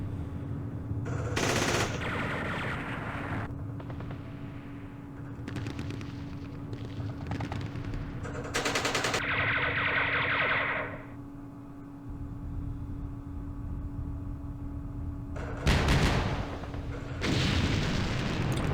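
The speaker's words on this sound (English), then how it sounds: "Ooh, our mortars." Mortar fire in the Vietnam war game Campaign Series Vietnam, Lam Son 719 scenario: bursts of booming impacts and rattling gunfire, with sharp loud blasts breaking through a steady low rumble.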